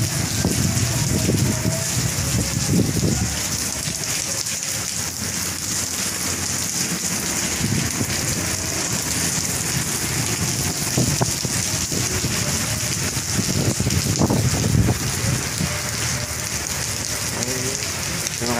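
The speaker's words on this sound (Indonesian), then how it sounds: "hari ini hujan" Heavy rain pours steadily over the ALS bus agency pool in Bekasi, a loud, dense, unbroken hiss of drops on surfaces with low rumbling underneath.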